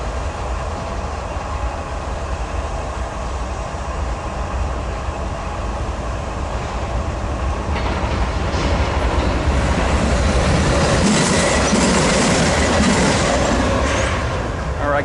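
Eastbound power move of locomotives passing at a rail crossing in Commerce, a continuous rumble of wheels and engines that grows louder and brighter with rattling metal near the end, with some talk under it.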